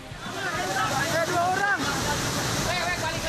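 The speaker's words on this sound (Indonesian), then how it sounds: "Banjir bandang akibat meluapnya aliran Sungai Citarik Cipencit di Cibuntu, Cicurug, Sukabumi, Jawa Barat membanjiri perkampungan warga." A flash flood from the overflowing Citarik Cipencit river surges through a village at Cibuntu, Cicurug, Sukabumi, West Java, as a loud continuous roaring rush of water, with voices murmuring underneath.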